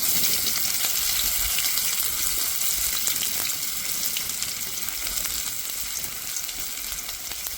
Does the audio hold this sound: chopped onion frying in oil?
yes